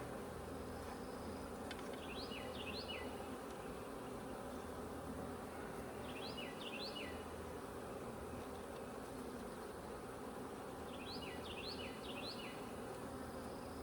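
Honey bees drone at an open beehive during a Demaree setup, a low, continuous buzz with faint chirps recurring three times in the background.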